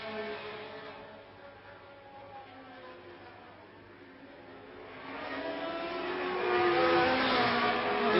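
A Ferrari racing car at the Zandvoort Dutch Grand Prix, its engine dipping, then rising steadily in pitch and loudness as it accelerates in the distance.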